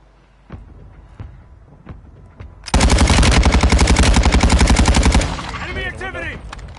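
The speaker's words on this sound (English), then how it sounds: "Friendly mortar strike inbound." Mortar strike explosions in a video game hit as a rapid, loud barrage of repeated blasts lasting a few seconds, preceded by scattered distant thumps and followed by a fading rumble.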